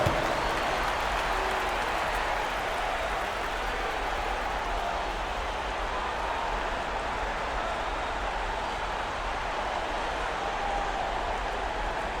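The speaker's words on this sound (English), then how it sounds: "Please give a big round of applause for your dance team" A large arena crowd at an NBA Finals game cheers a dance team, a continuous broad roar of applause and crowd noise that holds steady at an even level throughout.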